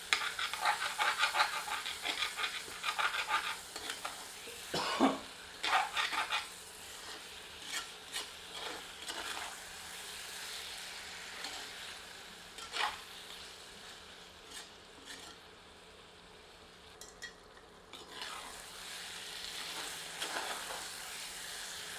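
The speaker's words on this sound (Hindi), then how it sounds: "इसे 3 से 4 मिनट मध्यम आंच पर और भूनते हैं।" Chicken curry masala fries on a medium flame, a soft steady sizzle broken by intermittent stirring scrapes and clinks, louder in the first half and fading quieter toward the end, with no talking.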